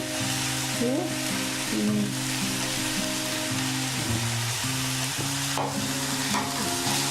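Banana stem frying with sugar and turmeric in a pan for a traditional Bengal pulao, giving a steady close sizzle throughout while sustained musical tones play underneath.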